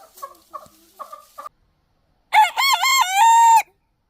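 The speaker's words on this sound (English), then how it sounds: "the most popular of all chicken sounds" A few short, soft clucks come from a chicken, then after a pause a rooster lets out one loud, drawn-out crow close by.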